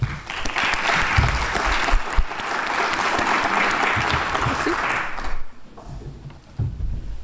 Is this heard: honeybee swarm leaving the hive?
no